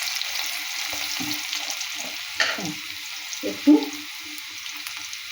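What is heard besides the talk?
cumin and onion frying in oil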